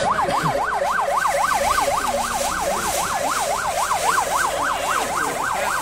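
An ambulance siren approaching from the distance at a fire-brigade competition wails in a fast, regular up-and-down cycle, steady and continuous over background street noise.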